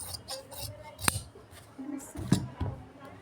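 Scissors snip through fabric in a few crisp, separate cuts while someone talks nearby between the snips.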